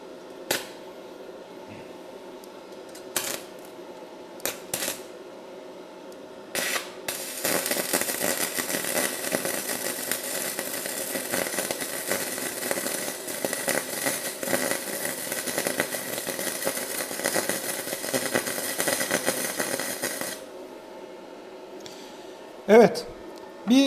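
A Daniu Mini MIG 200 IGBT welder lays a MIG weld on metal, giving a sustained crackling buzz for about thirteen seconds between brief clicks and taps, moderately loud with no talk over it.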